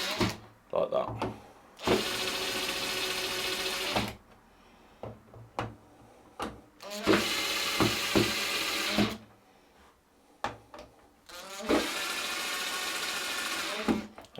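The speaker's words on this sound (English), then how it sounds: "When we start tightening down onto the screws, it will then loosen off those tags," Screws are driven with a power driver to fit a ceiling speaker, three sustained whirring bursts of about two seconds each, separated by quieter gaps with small handling clicks.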